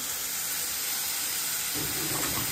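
Salted onion and tomato sauté in hot oil in a pan, giving a steady close sizzling hiss that thickens with a low scraping rumble partway through as the mixture is stirred, with no talking.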